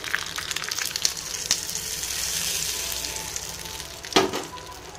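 Curry leaves torn and dropped into hot oil for a peanut chutney tempering crackle and sizzle steadily up close, with a few sharper spitting bursts and a louder pop near the end.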